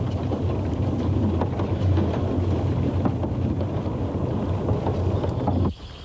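Llanberis Lake Railway train running along the lakeside through old Snowdonia woodland, a steady low rumble with rolling clatter holding for several seconds before dropping away abruptly near the end.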